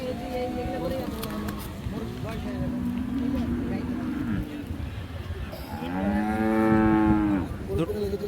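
Friesian cows moo at a Dinajpur cattle market, with several long, drawn-out calls close by, the loudest near the end, as people talk throughout and a busy crowd murmurs behind.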